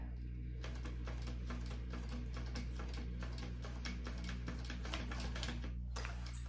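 A sewing machine runs a fast, even stitch along a soft vinyl handbag seam, its rapid ticking needle clatter close and steady over a constant low motor hum.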